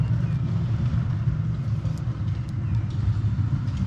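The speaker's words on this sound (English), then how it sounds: "Them folks run their trash can up with their truck." A truck with its engine running while hauling a trash can up a long driveway, a steady low rumble that holds at an even level throughout, with no talk over it.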